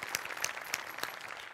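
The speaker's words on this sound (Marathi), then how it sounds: "जोरदार टाळ्या" An audience on a Marathi comedy show claps after a performance, a brief, faint patter of applause with a few sharper claps standing out.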